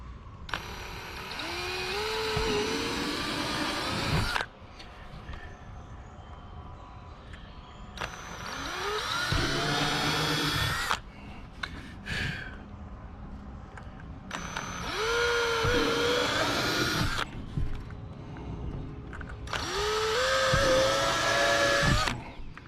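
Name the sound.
drill pre-drilling screw holes in kayak for storage hatch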